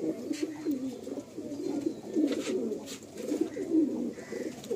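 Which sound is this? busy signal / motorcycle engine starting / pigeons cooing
pigeons cooing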